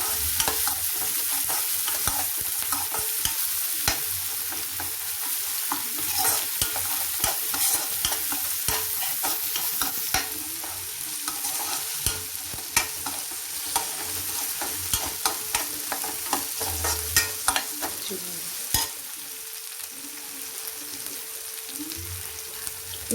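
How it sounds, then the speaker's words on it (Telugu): Onions and ginger paste fry in oil for a mutton fry, a steady close sizzle running throughout, punctuated by repeated sharp scrapes and taps of a spatula stirring the pan. "అల్లం పేస్ట్ కూడా బాగా ఫ్రై అయింది. ఆనియన్ చూడండి గోల్డెన్ ఫ్రై కలర్లో వస్తున్నాయి."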